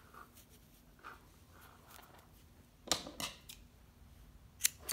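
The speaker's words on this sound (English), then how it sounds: "Cut it." Scissors cut knitting yarn while a beanie hat is finished: a couple of short, crisp snips stand out over a quiet room.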